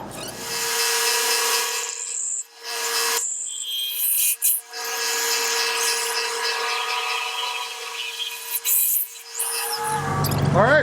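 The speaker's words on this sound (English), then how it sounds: "We're going to go ahead and drill this one as well." A Jet turret mill drills into oiled steel with a loud, continuous whirring grind and a steady tone. A few brief drops and pauses break the sound before it resumes.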